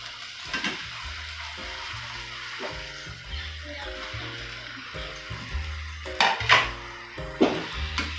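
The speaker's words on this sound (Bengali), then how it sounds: "আমি এখানে সব ভাজা রাখা আলু, এঁচোড় আমি সব অ্যাড করে নেব।" Fried potatoes and jackfruit are tipped into masala frying in a pan, producing a steady sizzle broken by a few louder clattering thumps and splatters near the end.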